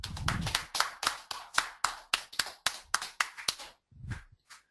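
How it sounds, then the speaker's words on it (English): Lone pair of hands claps about a dozen times in a quick, evenly spaced rhythm, sharp and close, then a short pause and two softer final claps; a small online-class audience's applause. "Give him a big round of applause"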